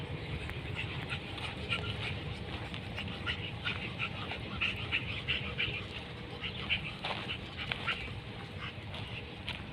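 A dog barks and yelps in short bursts over a noisy, busy background with some voices nearby.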